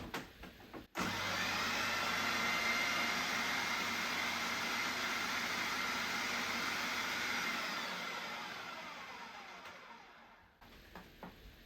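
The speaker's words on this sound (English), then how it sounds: "now you add your dates one at a time while having the food processor going at the same time" A food processor runs steadily while dates are dropped in one at a time for a whole-food orange slice mix, its motor giving a continuous whirring drone that fades out near the end, with no talking.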